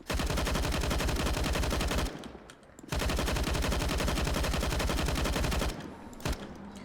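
A P90 submachine gun in Counter-Strike fires loud sustained automatic bursts, one long burst, a short pause, another long burst, then a brief final shot, with no talking.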